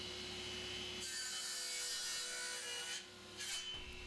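A saw cuts 45-degree mitres on oak moulding pieces for a picture frame, giving a steady, loud rasping wood-cutting sound that runs continuously, then briefly drops and resumes near the end.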